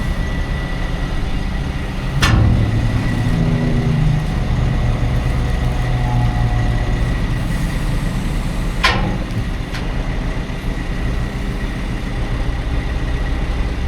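A heavy diesel loader engine idles steadily and loudly, with two sharp clanks standing out from the low rumble.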